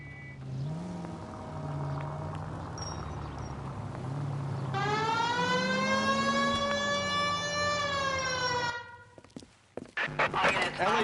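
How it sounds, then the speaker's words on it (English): In the video game L.A. Noire, a police car siren wails on with rising and falling tones over engine rumble, then cuts off abruptly, followed by a few knocks and thumps. "Hit the siren."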